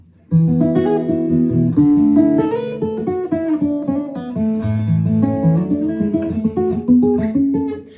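A Martin M21 acoustic guitar is picked and strummed up close through an internal LR Baggs HiFi pickup, a steady flow of bright chords and single notes with a clean, direct tone.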